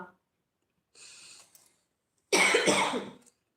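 A single harsh cough near the microphone after a brief breathy sound, surrounded by quiet.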